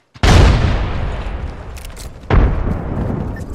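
Frag grenades explode in Apex Legends: a loud, close boom with a long decaying rumble, then a second blast about two seconds later.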